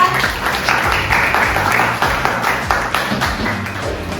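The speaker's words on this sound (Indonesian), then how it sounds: "Kita berikan tepuk tangan dulu untuk kelompok ketiga" A group applauds in a high-school classroom at SMAN 21 Surabaya as the third student group is welcomed, a dense, steady patter of clapping hands that fills the clip at close range.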